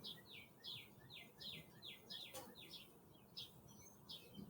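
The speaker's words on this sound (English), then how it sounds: "A robin is a bird, and you can probably hear them right now." Robins sing outdoors in spring, a faint series of rapid, repeated chirping phrases carried over soft background noise with no talking.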